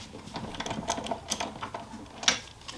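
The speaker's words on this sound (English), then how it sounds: "Got a 16mm deep socket," A 16mm deep socket wrench works on a generator's spark plug, giving a run of small, close metallic clicks and ratcheting ticks in an uneven rhythm, capped by one sharper clack near the end, with no voices.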